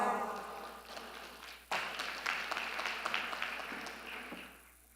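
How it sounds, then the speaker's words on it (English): Applause fills a large conference hall at a ministerial meeting, a dense wash of many clapping hands that swells sharply partway through and then fades gradually, with no speech over it. "A round of applause."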